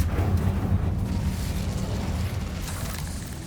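A fiery blast from the Incendio spell in the video game Hogwarts Legacy: a loud, sustained whooshing roar with deep rumbling that slowly fades over a few seconds, with no voices.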